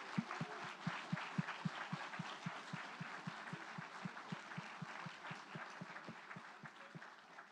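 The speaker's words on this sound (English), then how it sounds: "let's give them a round of applause." An audience applauds students at an indoor poster event with rhythmic clapping, steady and moderately close, slowly thinning toward the end.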